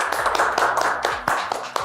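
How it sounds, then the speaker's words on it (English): Round of applause for the winner of a kids' quiz show semi-final episode, a steady patter of many hands clapping through the short stretch, fairly close and full, with no voices over it. "Let's give Daniel a round of applause,"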